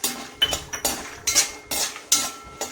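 Almonds and cashews being dry-roasted for makhana and date laddoos are stirred in a pan, producing repeated metallic scrapes and clinks of a spoon against the pan at a steady rhythm, close and clear.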